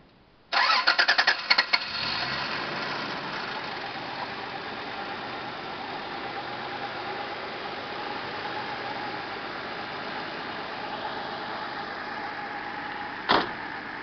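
An engine cranks briefly and catches, then settles into a steady, even idle that runs on for several seconds, with a short click near the end.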